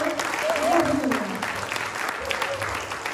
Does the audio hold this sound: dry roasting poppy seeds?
no